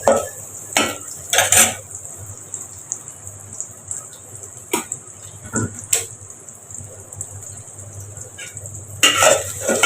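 Polao rice frying in a pot with green chili, scattered metallic clanks and scrapes of a spoon against the pot over a soft low sizzle, with quiet pauses between stirs.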